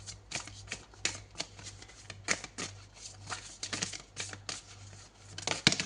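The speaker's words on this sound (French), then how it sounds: "je prends une autre carte" Tarot cards riffled and flicked in a steady series of crisp, close slaps and brushes, with a low steady hum underneath and one sharp snap near the end.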